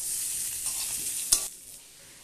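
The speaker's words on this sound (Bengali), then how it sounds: "এগুলোকে আলুর সাথে নেড়ে চেড়ে নিয়ে মিশিয়ে নেব এবং 2 মিনিটের জন্য ভেজে নেব" Ginger and green chillies being fried and stirred with potatoes in a pan, a soft continuous sizzle with one sharp utensil scrape near the middle, close and without talk.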